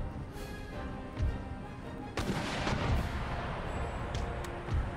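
Artillery fire in the video game Empire: Total War, with booming cannon reports and thuds at intervals over a steady rumbling battlefield background, several heavy hits standing out.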